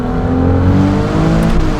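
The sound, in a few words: Novitec Ferrari 296 GTS N-Largo exhaust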